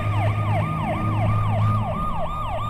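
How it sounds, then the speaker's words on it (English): Wailing emergency sirens in the Windows 98 FMV game Gothos cycle steadily up and down, loud and continuous, over a low engine hum and city rumble. "Let's go towards the sirens."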